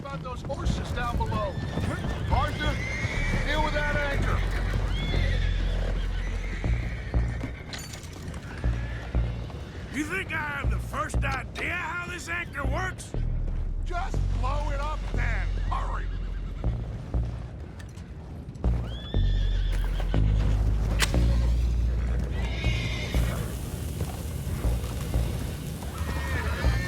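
Horses in Red Dead Redemption 2 neigh and whinny repeatedly over steady clip-clopping hooves, while characters talk and occasional booms sound throughout.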